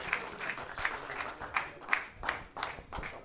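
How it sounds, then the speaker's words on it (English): Studio audience applauding three rugby league legends, Stacey Jones, Sione Faumuina and Monty Betham, on a season finale show, with a full burst of clapping that swells in rolling waves from start to finish. "Round of applause for our guests, ladies and gentlemen"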